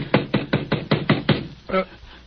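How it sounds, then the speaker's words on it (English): Seven quick, even knocks on a door in an old radio mystery drama, loud and close, followed by a short muffled sound, with no talk over them. "Someone at the door."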